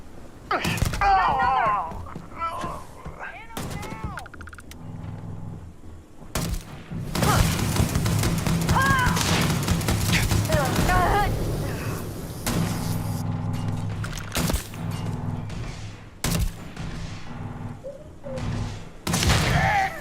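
Gunfire in the Starfield video game, bursts of shots and thuds scattered through a busy game soundscape, with players talking over the action.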